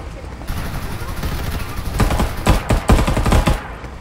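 Rapid bursts of gunfire in the battle royale game Fairlight 84, loud and close, starting as a dense rattle and building into heavier clustered volleys near the end.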